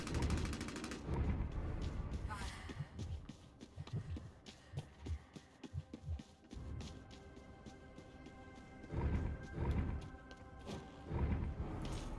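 Submachine gun fire in the battle royale game Bloodhunt, loud rapid bursts of gunshots in several clusters with short gaps between them, mixed with other game effects.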